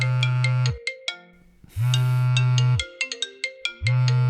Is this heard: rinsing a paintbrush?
no